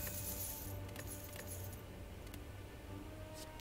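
Gold coins being collected in Slay the Spire, a faint, bright metallic jingle of clinking coins at the start, followed by a few scattered clinks over a quiet background.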